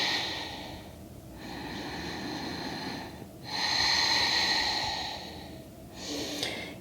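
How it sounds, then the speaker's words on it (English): Slow, deep breaths drawn in and released during a yoga flow for runners, three long audible inhale-exhale cycles close to the microphone, breathy and airy with brief pauses between, no talking. "Deep breath."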